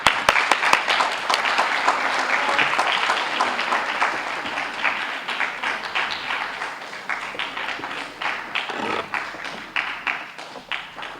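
An audience at a school honor society induction ceremony claps steadily for a guest speaker, a reverend, as he is introduced, dense, sustained applause that fades slightly over about eleven seconds.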